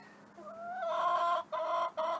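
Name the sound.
chickens clucking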